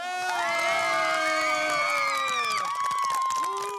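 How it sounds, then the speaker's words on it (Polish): Crowd of children cheer and squeal with high-pitched sustained shrieks and whoops after a song performance on a junior cooking competition set, loud and close, with some clapping mixed in. "Wszyscy piszczeli w ogóle,"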